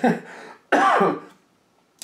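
A couple of harsh throat-clearing coughs close to the microphone, two bursts separated by a short pause, then quiet.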